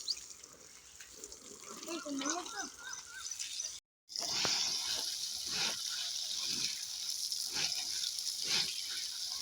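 Water splashing and sloshing while wheat grains are washed by hand in a hot-weather home setting, continuous wet rushing with scattered splashes, close, with a brief dropout midway and a voice talking over it.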